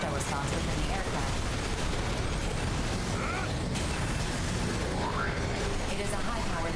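A high-powered laser weapon fires in the mech shooter Daemon X Machina, a loud, continuous roaring blast with faint sweeping tones woven through it, heard under game dialogue.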